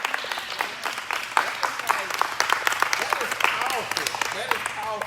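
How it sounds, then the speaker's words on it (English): An audience at a community event breaks into lively applause, dense overlapping claps with a few sharper individual hits, fairly close and loud throughout, while voices and cheers rise faintly underneath. "Clap it up."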